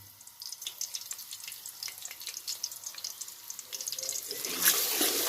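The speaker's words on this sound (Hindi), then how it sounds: "तेल गर्म हो गया है और अब मैं इसमें ये लहसुन अदरक का पेस्ट डाल रही हूँ।" Garlic ginger paste hits hot oil in a pan, giving a soft crackling sizzle that builds and grows louder toward the end, close and unaccompanied by speech.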